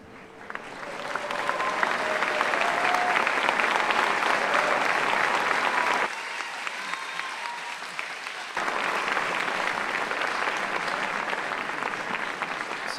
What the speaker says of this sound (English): I would like to hear one more round of applause for all the recent graduates